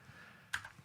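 Several quick computer keyboard key presses from a presenter typing, a sharp click followed by a few softer taps, faint and close, with no talking.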